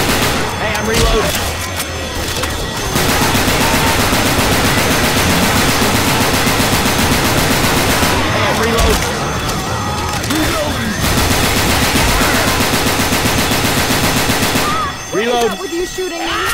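Sustained, dense automatic gunfire from the Left 4 Dead 2 co-op zombie shooter, with several weapons rattling loudly and nearly without pause, dropping briefly around a few short gaps.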